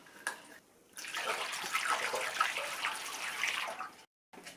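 Metal Rescue rust remover is poured into an RZ350 motorcycle gas tank, a gurgling splashing stream of liquid lasting about three seconds after a brief pause, then cutting off abruptly.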